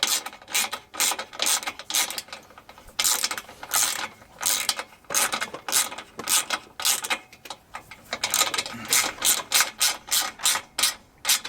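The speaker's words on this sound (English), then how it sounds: "this is a self-tapping screw, so just literally keep going and it will bite its way in" A ratchet drives a self-tapping screw into a Vauxhall Astra VXR during an intercooler install, with rapid repeated clicking bursts continuing close and loud for about eleven seconds.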